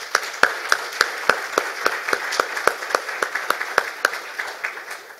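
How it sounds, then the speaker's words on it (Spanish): A small audience at an economics talk gives a round of applause, with distinct hand claps in a fairly steady, quick rhythm, close and clear, and no talking over it. "Un aplauso, por favor, para ellos."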